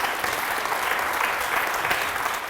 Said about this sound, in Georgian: ეს აპლოდისმენტები შენ მშობლებს